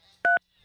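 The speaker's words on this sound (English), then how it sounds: "Dialing the phone." Two short, clean touch-tone beeps ring out as a telephone is dialed in a radio studio, the first a crisp tone, the second starting just at the end.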